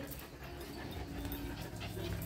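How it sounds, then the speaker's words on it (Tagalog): A dog nearby pants and whimpers in short, restless bursts against a steady background hiss, outdoors in an overgrown yard during grass cleanup, with faint voices underneath. "Itong mga makukulit na aso."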